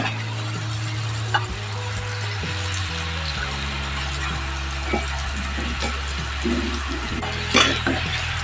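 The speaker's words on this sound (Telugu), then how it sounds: "చిప్స్ అన్నీ ఇలా రెండు వైపులా వేయించేసేసుకుంటాం" Diamond-shaped chips of wheat flour dough fry in hot oil, producing a loud, continuous bubbling sizzle with occasional sharper crackles and a low steady hum beneath, and no talking.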